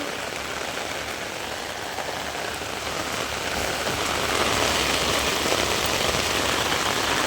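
Heavy village rain pounds down steadily on surfaces, a dense continuous hiss that swells slightly louder halfway through, with no voices.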